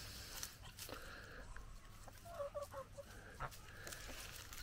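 A chicken clucks softly in a yard in a Queensland outback town, a few short, faint clucks in the middle against quiet outdoor background noise.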